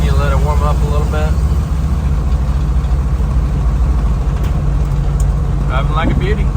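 A 1973 International Scout engine idling after a cold start while it warms up, a loud steady low rumble throughout with voices speaking over it at the start and near the end.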